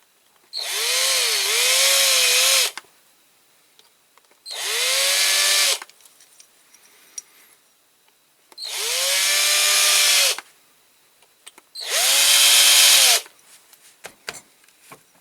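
A power drill bores centre holes into the wheel of a Corgi Massey Ferguson 65 model tractor during a restoration, running in four loud, close bursts of about two to three seconds each, with short quiet pauses and small handling clicks between.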